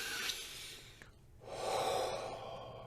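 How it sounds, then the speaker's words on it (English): A deep breath drawn in before playing a Native American flute, a close, airy inhale followed by a longer, fuller exhale-like rush of air, with no talking. "Take a nice deep breath"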